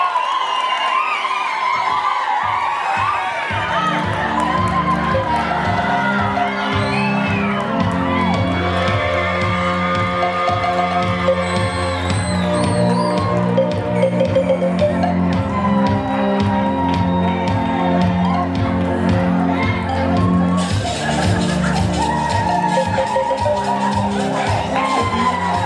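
A lively audience at a poetry night cheers, whoops and shouts loudly and continuously, a dense crowd roar with voices calling out throughout.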